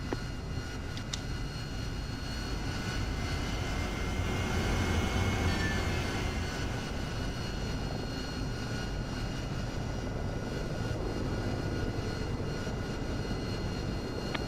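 A Harrier jet in the DCS World flight game roars steadily during takeoff, a loud, continuous engine drone holding for the whole stretch with no letup.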